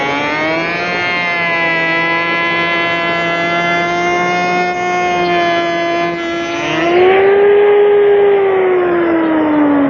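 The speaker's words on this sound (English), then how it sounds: "I'm going to set it in the router, tighten it down, and I'm going to slow the router speed down to its slowest speed." A router set to its slowest speed spins a large heavy-duty carbide panel raising bit, giving a steady, loud whine with many harmonics; the pitch shifts and rises near the end as the speed changes. No one speaks.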